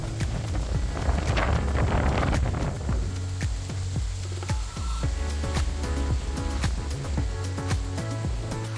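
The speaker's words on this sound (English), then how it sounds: "On the day we arrived, it was very windy" Strong wind at a beach in Bilene, Mozambique buffets and roars across the microphone in continuous gusts, loud and close, with rustling and clatter mixed in.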